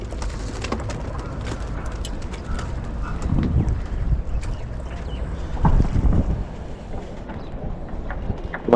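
Steady wind rushing across the microphone with a low rumble, broken by occasional louder gusts and faint knocking sounds.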